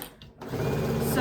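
A sewing machine stitches through quilt fabric, a short pause then a steady fast mechanical whirr that swells briefly at the end, fairly faint and close.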